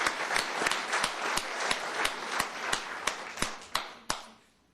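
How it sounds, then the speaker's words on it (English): A small group applauds 10-year employees at a county commissioners court meeting, with a few distinct, evenly spaced claps ringing out in a quiet room and gradually tapering off. "let's give them a round of applause"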